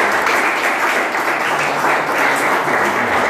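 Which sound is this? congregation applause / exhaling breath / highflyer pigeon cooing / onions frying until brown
congregation applause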